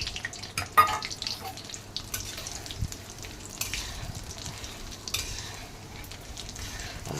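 Chillies dropped into hot oil in a pan while cooking taro curry, giving a steady soft sizzle with occasional stirring scrapes and a brief louder clatter near the start.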